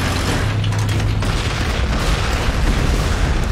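A Vindicator siege tank firing in the Warhammer 40,000: Gladius strategy game, a loud, dense, rumbling boom that fills the whole moment with heavy low blast noise and no talking.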